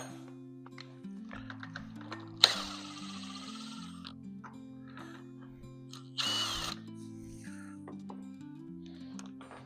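A power drill drives an awning mounting bolt tight, its motor whining in short variable-pitch bursts at close range, with a couple of louder noisy spurts and some light clicks around it.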